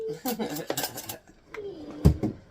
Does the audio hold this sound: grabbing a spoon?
yes